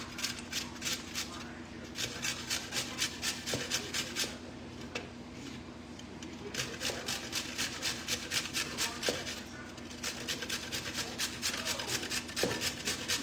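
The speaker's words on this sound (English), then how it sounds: "And you're just gonna grate them." Vegetables grated by hand on the coarse side of a box grater for Polish bigos in a home kitchen, a steady run of rhythmic rasping strokes at close range, with a few brief voices underneath.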